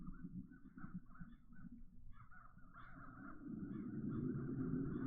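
Crows caw repeatedly in a game scene from The Dark Eye: Chains of Satinav, a series of hoarse calls over a low ambient rumble that swells toward the end.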